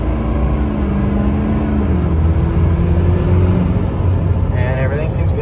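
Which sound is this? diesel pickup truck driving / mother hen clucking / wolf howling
diesel pickup truck driving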